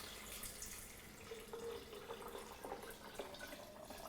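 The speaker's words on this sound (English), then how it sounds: "So just add the water." Filtered water poured onto almonds for homemade almond milk, a quiet, steady trickle and splash of liquid running for a few seconds, close and soft.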